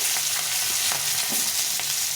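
Steady oily sizzling of small new potatoes frying in a pan, with occasional small pops and crackles, close and continuous without any talking.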